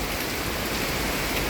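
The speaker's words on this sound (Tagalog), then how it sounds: "Malakas ang ambon" Heavy drizzle falls outdoors in a steady, dense hiss of rain, close and continuous, with no voices.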